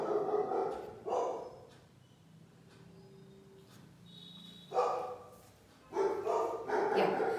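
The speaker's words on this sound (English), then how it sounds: "apologies for the dog barking at the background." Dogs barking in the background, several sharp bursts near the start and end with quieter whimpering sounds between, fairly loud.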